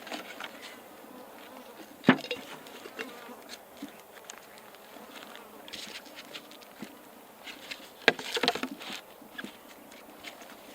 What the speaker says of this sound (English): taking this swarm trap right here that's full of bees